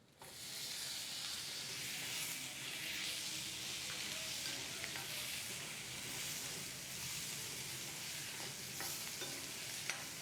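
Onions and two chopped tomatoes frying in a pan for a prawn gravy, a constant close hissing sizzle with light stirring scrapes throughout, steady and unbroken.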